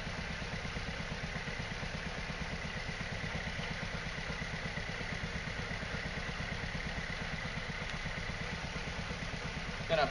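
A small scooter engine running on hydrogen with top-of-carb injection idles in a steady, fast, even putter, close and constant throughout, with a brief knock at the very end.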